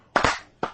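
A few sharp hand claps, two close together and then a gap before two more, loud and near with no talking.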